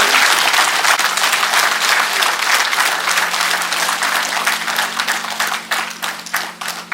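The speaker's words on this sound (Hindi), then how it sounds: "तालियों की कमी नहीं होनी चाहिए।" At a government seminar on environment and security, an audience breaks into loud, steady applause that thins gradually into distinct separate claps over about seven seconds, with a low constant hum beneath.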